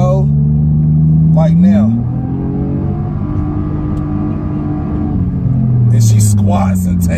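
A 2009 Nissan Maxima with a CVT accelerates hard, its engine droning loudly and then rising in pitch, while people talk briefly over it.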